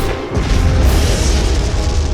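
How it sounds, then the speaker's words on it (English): Blaster cannon fire tearing through a gunship in a science-fiction space battle: a loud, continuous booming roar with heavy low rumble and crackling bursts for about two seconds, with no voices. "Blaster cannon fire rips through the gunship."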